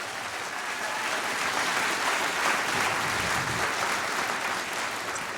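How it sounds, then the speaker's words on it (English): An audience claps steadily at a large volunteer appreciation event, dense, sustained applause filling the room throughout with no voices on top. "Let's give them a big round of applause."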